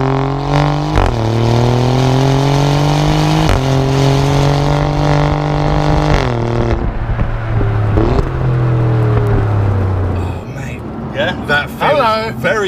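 An Alfa Romeo Giulia Quadrifoglio's 3-litre twin-turbo V6 revs loudly nearby, pitch climbing through several gear shifts with a droning growl, then fading as voices chatter at the end.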